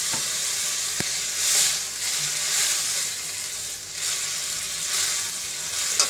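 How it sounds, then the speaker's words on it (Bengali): A curry of kolmi greens, meant for jatka fish, sizzles and fries steadily in a pan, a continuous close crackling hiss that swells and eases with occasional stirring clicks. "একটু কষাই নেব"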